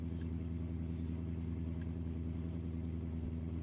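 Drift cars at a VDM round in Ireland, BMWs among them, roar steadily with dense engine rumble, sustained and moderately distant, with no voices over it.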